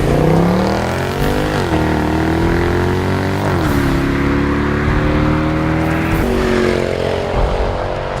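A 2014 Mercedes-Benz C63 AMG Edition 507 wagon's powerful engine revs hard and accelerates, its pitch climbing in repeated surges as it shifts through gears, loud and close with no talking.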